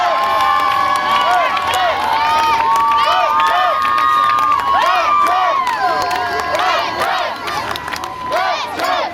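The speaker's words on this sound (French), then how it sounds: "Let's hear some noise for Belgium!" Crowd of spectators cheering and shouting for the Belgian team at the Mounted Games World Team Championships U17 final, loud and continuous with high whoops and voices rising over a dense roar.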